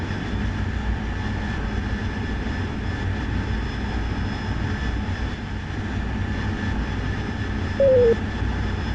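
A fighter jet's engine in the DCS World flight simulator hums as a steady, even cockpit drone at fairly high volume, unchanging throughout with a brief tonal blip near the end.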